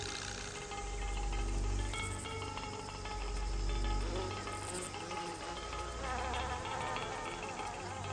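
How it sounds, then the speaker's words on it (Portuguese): A robber fly buzzing as it darts quickly from flower to flower, its steady insect drone running continuously and fairly loud through the whole stretch with no talk. "Você está vendo uma mosca salteadora."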